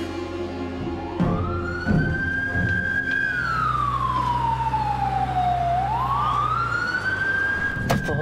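An ambulance siren wails loudly and steadily, rising and falling in a long sweeping tone over a low engine rumble, with a few sharp knocks along the way.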